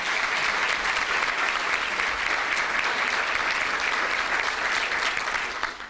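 Sustained applause from an audience at a chamber of commerce breakfast for Dr. Toro, steady and dense throughout before thinning slightly at the end.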